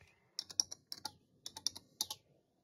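Keys on a computer keyboard typed in short bursts of quick clicks with brief pauses between, close and fairly quiet, with no voices.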